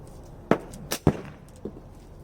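Slingshot fired with test rubber bands or tubes: a few sharp snapping cracks close by, two strong ones in quick succession followed by a softer one, against quiet background.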